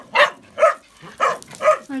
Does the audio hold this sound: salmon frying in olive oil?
no